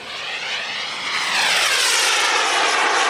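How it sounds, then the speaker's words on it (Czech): A jet aircraft at an air show climbing vertically under full throttle, a loud, close roaring engine whose whine sweeps in pitch as it powers upward, rising in volume and holding steady. "vidíte, jak ten letoun okamžitě dokáže reagovat na plyn a stoupá kolmo vzhůru"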